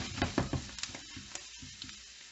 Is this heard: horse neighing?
no